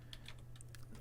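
A Minecraft chat command being typed on a computer keyboard, a short run of quiet, close key clicks in uneven rhythm over a steady low electrical hum.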